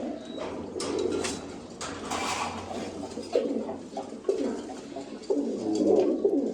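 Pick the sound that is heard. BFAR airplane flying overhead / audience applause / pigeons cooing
pigeons cooing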